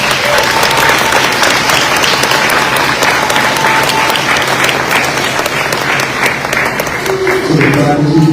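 Audience at an elementary school fifth grade promotion ceremony applauding, a dense sustained crowd clapping that carries on steadily throughout, with a voice coming in near the end.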